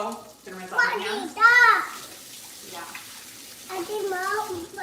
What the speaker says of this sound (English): Gonna rinse off my hands.